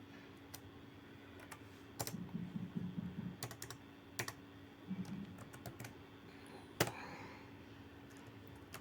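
Quiet keyboard typing of HTML code comes in short bursts of rapid clicks, with a few louder isolated key taps and pauses between, close and soft over a faint background hum.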